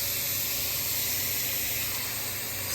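Steady close hiss of running water rinsing fairing compound off a 1971 Boston Whaler 13 hull during restoration, constant and fairly loud without pauses.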